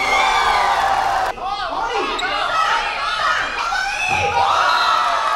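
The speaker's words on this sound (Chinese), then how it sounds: "掌声欢声雷动" A crowd at a basketball exhibition game cheers and shouts loudly and continuously, with excited children's voices and whoops rising over the din, close and dense throughout.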